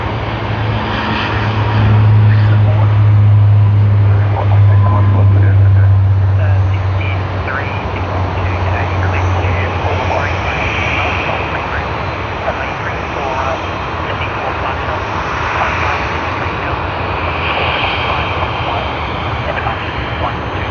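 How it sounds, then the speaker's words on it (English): A Dash 8 turboprop beginning its takeoff roll at Sydney Airport, with a steady droning engine hum heard from a distance beneath continuous commentary. "They've just begun their takeoff roll."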